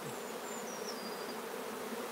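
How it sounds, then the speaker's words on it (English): Honeybees in a strong cell-builder hive crowded with bees, a steady dense buzzing drone throughout, fairly faint and even, with a few individual bees passing close by. "this is what you get when you get a good cell builder proliferating bees, bees everywhere"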